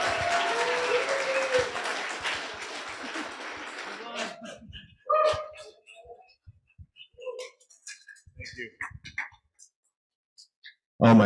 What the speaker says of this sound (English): one more round of applause for all of our entrants